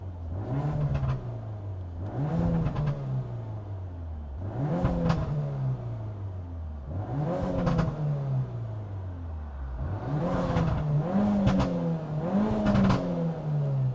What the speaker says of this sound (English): Have a listen to this, how quick this revs up.